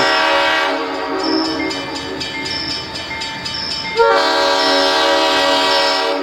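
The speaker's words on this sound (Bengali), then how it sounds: "হঠাৎ একটা ট্রেনের আওয়াজ।" A train sound effect in a romantic audio drama: a loud, sustained multi-tone train horn blares over rolling rail rumble, shifting pitch partway through and holding to the end.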